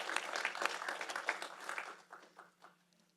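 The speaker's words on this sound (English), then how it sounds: "but we'll clap for him" Audience applause for a fellowship winner at an arts award ceremony, a steady burst of hand clapping that fades out toward the end, with no talk over it.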